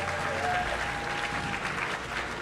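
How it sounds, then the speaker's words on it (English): Audience applause at a MCM London Comic Con stage presentation of LEGO Jurassic World, a steady dense clapping from a crowd lasting throughout, fairly loud and continuous. "can we get a round of applause, please?"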